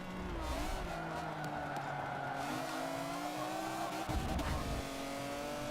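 A McLaren F1 racing in the video game Forza 7, its engine droning steadily at high revs with shifting pitch and a brief tire squeal, loud and continuous throughout.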